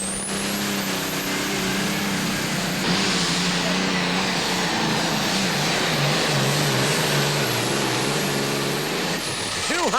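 During a tractor pull, a John Deere 4010 tractor engine roars loud and steady under a high-pitched whine for the whole run, then drops off sharply at the end, with a faint announcer voice under it.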